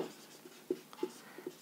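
A pen or chalk writes out math equations on paper or a board, making soft scratches and several light taps over a short stretch, with faint speech in the background.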